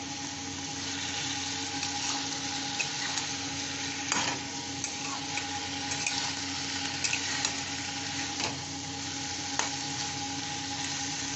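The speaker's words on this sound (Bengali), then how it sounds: "এটা ভালো করে একটু কষে নিতে হবে, খুব ভালো করে" Chilli curry sautéed in a pan, with a continuous close sizzle and repeated scraping stir strokes at irregular intervals throughout.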